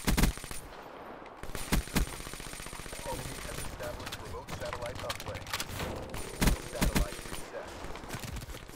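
Rapid automatic turret gunfire in the shooter game Black Ops 3, loud bursts of shots over busy game noise with a player talking over it.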